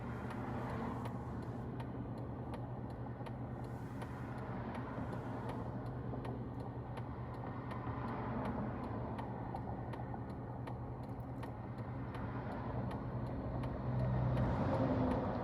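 Faint, regular clicking of a car turn signal indicator, ticking at an even pace throughout over a quiet engine hum inside the cabin.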